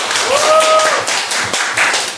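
A crowd claps steadily throughout, a dense patter of hands with a brief whistle-like tone near the start.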